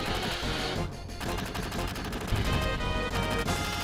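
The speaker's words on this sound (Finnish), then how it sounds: "Parat, mitä sä oikein ammut?" Rapid gunfire in the video game Final Fantasy VII, a dense, loud burst of repeated shots rattling on steadily like machine-gun fire, with no talk over it.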